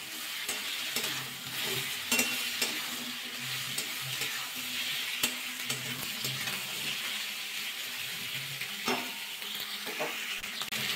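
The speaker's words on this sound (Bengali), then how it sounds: "বেগুনটা দিয়ে একটু নাড়াচাড়া করে নেবো।" Eggplant frying in a pan is stirred, a continuous sizzle broken by scraping and knocking sounds from the utensil against the pan at irregular moments.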